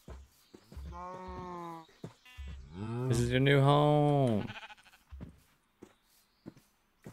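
Sheep bleating in Minecraft, a few short bleats followed by one long, wavering bleat, heard close and clear with someone speaking briefly before them.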